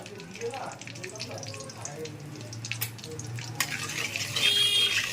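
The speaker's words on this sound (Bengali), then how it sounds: "এই তেলের মধ্যেই আমি দিয়ে দিচ্ছি গোটা গরম মশলা" Whole garam masala spices are dropped into hot oil in a pan and fry. A soft, steady sizzle with light stirring grows louder and brighter toward the end, and a faint voice is heard early on.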